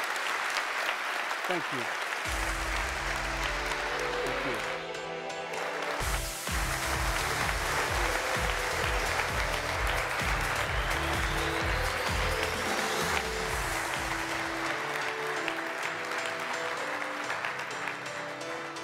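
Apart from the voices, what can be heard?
audience applause for keynote speaker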